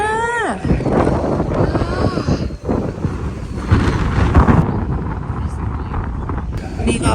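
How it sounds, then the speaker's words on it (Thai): Strong wind roars across a rooftop viewpoint in Japan, buffeting the microphone in a steady, loud broadband rush with brief dips, while a voice exclaims briefly at the start. "ชมวิวอุ้ย ลมแรง"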